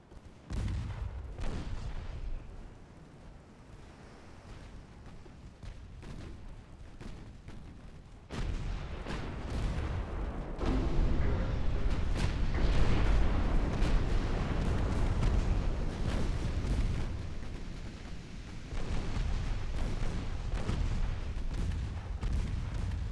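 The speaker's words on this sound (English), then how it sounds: "Actually, you got pretty punchy 10-inch guns." 10-inch naval guns fire in Ultimate Admiral Dreadnoughts during a 1904 French campaign battle, heavy booming blasts and rumbling impacts that come in bursts and swell into a loud, sustained barrage.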